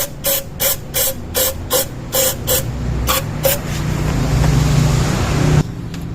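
Repeated short bursts of aerosol cleaner sprayed onto carbon deposits in the intake of a 9th-generation Toyota Corolla Altis during intake manifold gasket replacement, about ten quick hisses followed by a longer continuous spray that cuts off sharply.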